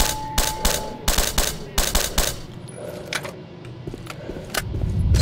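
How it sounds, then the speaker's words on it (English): In the game STALKER: Shadow of Chernobyl, enemies fire sharp, loud gunshots in quick rhythmic bursts, then a few scattered single shots follow. A low rumble rises at the end. "they're shooting at me"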